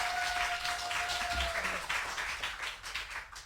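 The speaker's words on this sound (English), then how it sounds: "A round of applause" Applause from a student audience welcoming a candidate at a campus election question-time event, a steady wash of many hands clapping at moderate distance, with a brief whistle-like tone early on.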